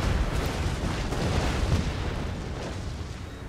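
A heavy artillery round fires in an Empire: Total War battle, a deep rumbling boom that rolls on as a dense, sustained roar of distant cannon and battle noise.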